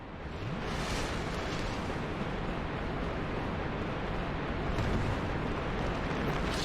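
Continuous roaring, crackling blasts from exploding heads in Dark Souls, a dense, loud wall of fiery explosion noise that swells slightly near the end.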